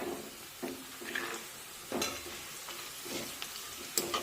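Cashews fry in a tempering with curry leaves, a faint continuous sizzle broken by a few soft scraping stirs of a spoon in the pan, with no talking.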